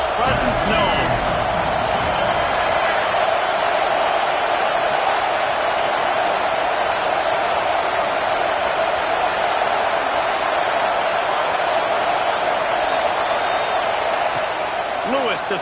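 A packed American football stadium crowd keeps up a loud, continuous roar of cheering and noise for the whole stretch. A commentator talks over it.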